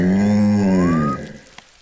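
A cartoon cow in Ben and Holly's Little Kingdom gives a single long, loud mooing call with a slowly rising pitch that fades out near the end.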